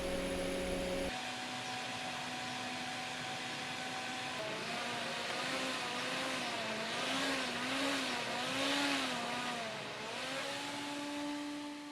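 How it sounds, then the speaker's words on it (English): A Road Pro 12-volt fan runs with a steady whirring hum, close and fairly quiet, its pitch shifting slightly and wavering partway through. "That's a Road Pro fan."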